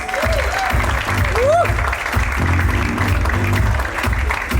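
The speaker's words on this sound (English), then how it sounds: "Big round of applause." A stage event for the trailer of the film 800 fills with loud, sustained audience applause greeting Sachin Tendulkar and Muralitharan, with an announcer's voice over the steady clapping.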